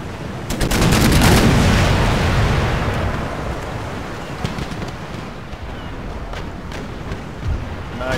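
Naval cannon fire in the Empire Total War game: a heavy roaring blast swells and slowly decays into a long rumbling wash, followed by a few lighter cracks.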